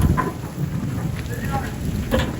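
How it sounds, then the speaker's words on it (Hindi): Heavy rain pours in a steady, dense hiss with scattered splashes and knocks, close around, while a few faint voices murmur underneath. "बारिश इधर मूसलाधार हो रही है काफ़ी देर से"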